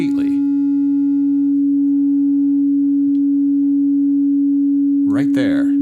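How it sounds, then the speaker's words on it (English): A steady pure sine tone from an MRB Zeroscillator synthesizer oscillator hums loud and unwavering for several seconds, with no harmonics and brief noisy bursts at the start and end. "Right there, no harmonics, really good pure sine wave."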